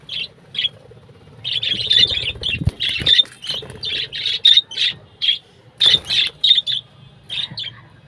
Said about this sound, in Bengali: পাখিগুলো আমাদের খুবই শখের পাখি